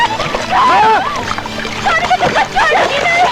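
Water splashes and sloshes in a bathtub, with bursts of movement mixed under a voice speaking close by, all fairly loud.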